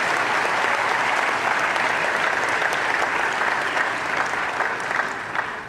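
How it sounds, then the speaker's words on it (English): A large crowd at a South African presidential address applauds steadily and loudly, a dense continuous wash of clapping that tapers slightly at the end. "round of applause and thank them"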